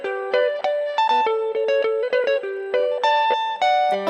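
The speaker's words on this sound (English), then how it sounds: "We added a live guitar in there, which sounds like this" A live guitar in a LaunchPad scene plays a bright melodic run of plucked single notes with embellishments, each note sharply attacked and ringing briefly, clear and close with no talking.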